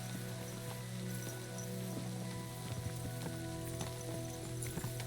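Rain falls in the medieval video game Kingdom Come: Deliverance 2, a faint steady patter of drops on surfaces that continues without a break.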